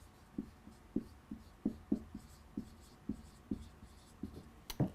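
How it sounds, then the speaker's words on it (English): A pen writes sentences on paper close up, a series of soft scratchy strokes and taps in an irregular rhythm, quiet and alone. "let me write this down."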